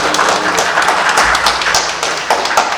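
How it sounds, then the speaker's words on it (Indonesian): Applause for Pak Desto at a procurement talk session, a steady patter of many hands clapping at moderate distance, dense and even, with a few sharper claps standing out. "Tepuk tangan dulu dong buat Pak Desto."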